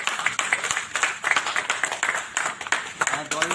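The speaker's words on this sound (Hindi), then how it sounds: "मैं चाहूंगा जोरदार तालियां आपकी तरफ से आनी चाहिए।" An audience claps at an award ceremony and book launch, uneven bursts of moderate clapping that rise and fall in waves, fairly close.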